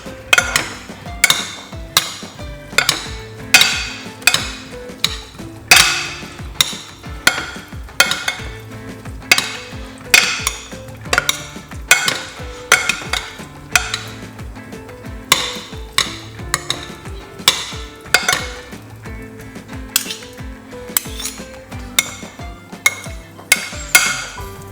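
Salad ingredients tossed and mixed in a bowl, with a steady run of sharp, evenly spaced clacks and scrapes of a utensil against the bowl, close and loud, and no talking.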